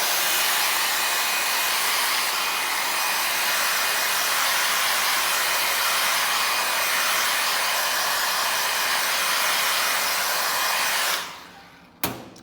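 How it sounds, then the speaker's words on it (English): A hair dryer blows loudly and steadily over treated leather, a strong airy whoosh and faint whine, running close for several seconds before switching off. "We'll just speed it up with the hair dryer for now."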